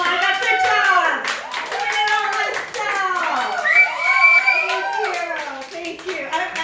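A comedy show audience fills the room with sustained applause and clapping, with cheering and voices mixed in, loud and close throughout.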